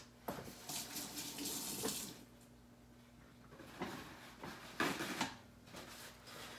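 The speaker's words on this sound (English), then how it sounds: "Let me wash my hands." Tap water runs into a sink while hands are washed in a kitchen, in intermittent splashing bursts with a soft thud of handling in between.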